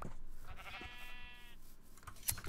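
A sheep bleats once in the Minecraft video game, a short wavering electronic baa heard clearly over a faint background hum, with a small click near the end.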